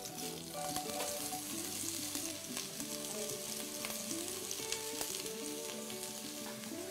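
Leek sizzles and fries in a hot pot, a steady crackling hiss with small pops and stirring noises, close but fairly quiet, with no one talking.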